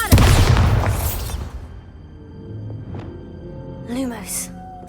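A Bombarda explosion spell in Hogwarts Legacy hits with a loud booming blast that fades into rumble, followed by quieter magical chimes and tones, with a voice briefly heard during it.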